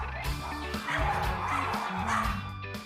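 Dogs at a dog café bark and yip in quick, close, repeated bursts, with some whimpering mixed in, over a short stretch.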